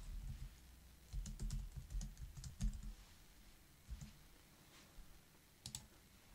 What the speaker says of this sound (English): We type in the password.